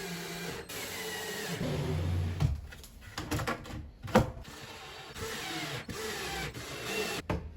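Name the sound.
screwing cupboard panels into place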